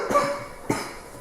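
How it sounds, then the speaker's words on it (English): A person coughs twice in quick succession, two short, fairly quiet bursts about half a second apart, with little else around them. "Man, just hearing that cough makes my throat sore."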